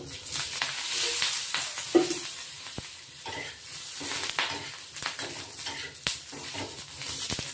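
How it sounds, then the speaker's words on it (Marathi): Green chilies roast in oil in a pan with a steady sizzle and frying hiss, broken by occasional stirring scrapes and clinks of a utensil against the pan, heard close up. "पूर्ण अशी मऊ आणि असे लाल रंगाचे डाग पडेपर्यंत चांगली भाजली गेली पाहिजे आपली मिरची"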